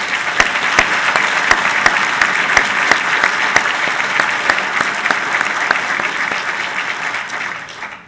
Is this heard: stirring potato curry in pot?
no